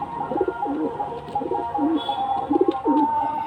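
Male pigeon cooing in repeated low rolling phrases, several bursts in steady rhythm, close and moderately loud with a faint background hum.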